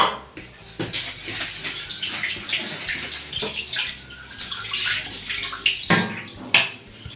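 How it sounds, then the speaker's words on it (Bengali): Coriander leaves rinsed under running tap water, a rushing, splashing stream with bursts and shifts as the leaves are handled, close by and with no talking. "ধনেপাতাটা ধুয়ে নেব।"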